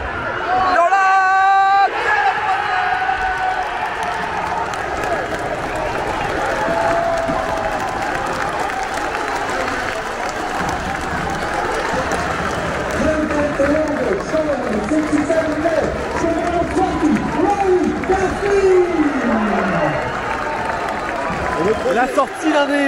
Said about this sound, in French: acclamé par toute la foule